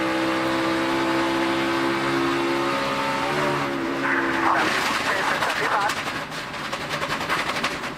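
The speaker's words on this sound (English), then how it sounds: "And you hear how violent that tire is." A NASCAR Cup Series stock car spins out on an exploding flat tire, its loud engine roar and rubber scrubbing building into a harsh, chaotic rumble, with a commentator talking over it.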